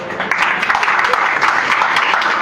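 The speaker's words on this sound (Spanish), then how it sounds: "Un aplauso para Abdías." A church congregation applauds, a dense crowd of clapping hands, steady and fairly loud across the short stretch, with faint voices underneath.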